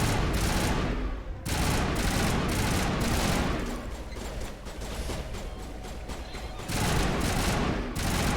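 Mass Effect combat with a Thorian grenade blast and sustained gunfire, a dense continuous barrage of shots and booms that stays loud throughout, easing briefly in the middle before swelling again.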